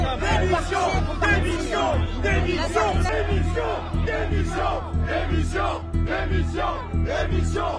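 Protesting farmers crowd outside the Palais Bourbon in Paris, booing and chanting "Démission" in loud, rhythmic collective shouts over a continuous roar of crowd noise and babble.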